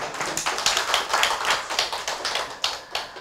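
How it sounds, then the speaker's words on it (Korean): Applause at a city regeneration forum in Gwangju, a steady dense patter of hand claps from a seated audience, close and continuous with no talking. "큰 박수 부탁드리겠습니다"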